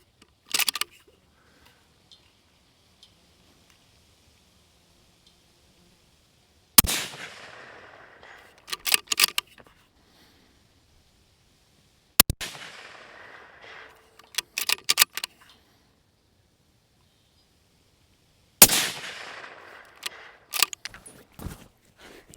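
Rifle shots fired through a Discovery 3-15x ED LHT Gen 2 scope set at 3 power: three loud sharp reports spaced several seconds apart outdoors, each trailing off with echo, followed by metallic clicks and handling noise between shots.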